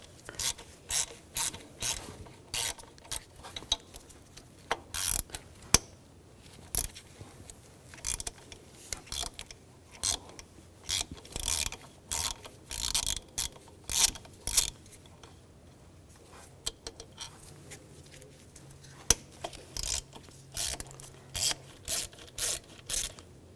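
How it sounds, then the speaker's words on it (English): A ratchet wrench driving a T30 socket clicks steadily in repeated quick bursts, loosening intake manifold bolts on a 2011-2018 Volkswagen Jetta 2.0L TDI, close up with brief pauses between runs. "Using a T30 socket,"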